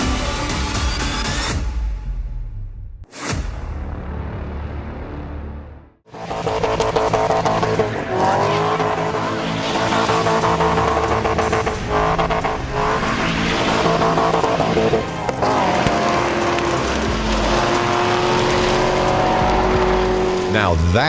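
Truck tires spin and squeal in a smoky burnout, a loud, continuous engine roar and tire screech that runs nearly unbroken after a brief quiet gap near the start, with speech mixed in.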